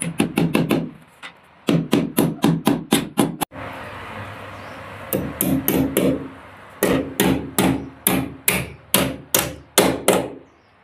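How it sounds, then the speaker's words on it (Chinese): Steel nails hammered into a wall to mount an air conditioner unit: close, loud metallic strikes in quick runs of about five to seven blows, separated by short pauses, with no talk. "打了第一颗钉子再确认一下"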